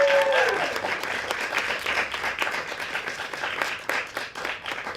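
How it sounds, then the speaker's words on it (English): Crowd applause with dense clapping that starts loud and gradually tapers; a brief tonal note sounds at the very start. "Round of applause for Carly, everybody."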